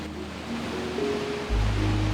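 Ocean surf washes steadily as a broad, close rush of breaking waves, swelling louder near the end, with no talk.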